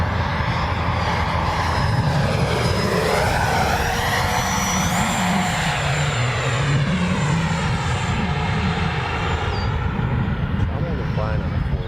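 An FMS Rafale RC jet with twin ducted fans flies past, its loud, continuous whooshing whine shifting in pitch as it sweeps overhead, with people talking over it.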